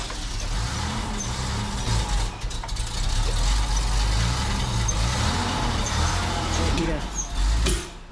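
A truck engine, given a little gas, rumbles and revs continuously at close range under steady low-end drone with a hiss of air, while people talk over it.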